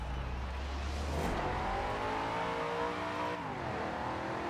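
Race car in Forza Horizon 4 pulling away at the start of a race, a steady loud engine roar rising in pitch through gear changes, with rising harmonic sweeps and no talk.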